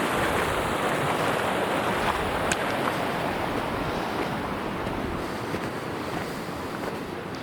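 A small creek flows through a farm field in a steady, even rush of water that stays unbroken for the whole stretch, with a faint windy wash over it and no one talking.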